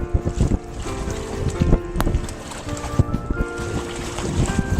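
A sailboat cruising out on open water with wind pushing against the microphone: gusty rumble and splashing water, knocks and creaks from the boat, and steady tones running underneath.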